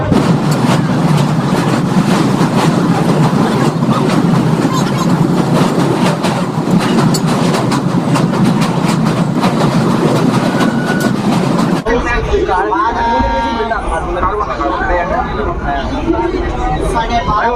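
A local train runs from Sealdah toward Bandel, with a dense, continuous rumble and clatter of wheels heard from inside the coach, loud and steady, under a background of passenger chatter, then an abrupt shift to a thinner, quieter sound.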